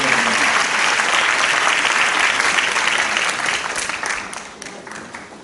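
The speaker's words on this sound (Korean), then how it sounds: "다시 한번 뜨거운 박수를 청해 주시면 감사하겠습니다." At a university president's inauguration ceremony, an audience bursts into loud, dense applause that holds steady and then thins out toward the end.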